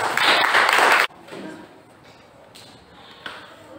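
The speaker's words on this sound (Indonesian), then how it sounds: "Tepuk tangan dulu untuk kelompok 4" Classroom applause for a student group before their presentation, a dense burst of clapping for about a second that drops off sharply, followed by room murmur and shuffling.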